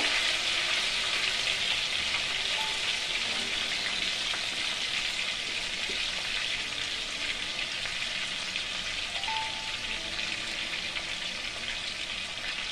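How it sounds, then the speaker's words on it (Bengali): Chopped tomatoes fry in oil in a pan, a loud, steady close-up sizzle that holds evenly throughout with faint stirring and no voices. "দেখুন টমেটোটা ভাজা হয়ে গেছে।"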